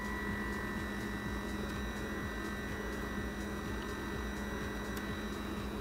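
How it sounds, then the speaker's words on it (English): Pore vacuum blackhead remover in use on facial skin, a steady faint electric hum with a thin whine, constant and unbroken for several seconds. "And after you remove it with this, you just vacuum it out."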